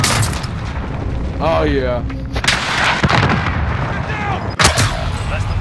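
Booming gunfire and artillery-like blasts in a Warzone battle royale match, loud sharp reports scattered across the moment with a heavy crack near the end, mixed under a voice speaking.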